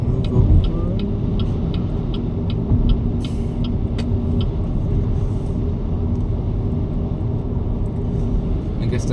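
A BYD car driving on a road and moving over to an exit: steady low road and engine rumble throughout, with a rhythmic ticking indicator in the first few seconds, under a voice talking.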